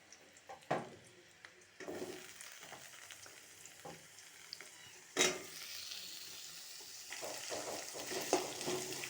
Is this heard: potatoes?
yes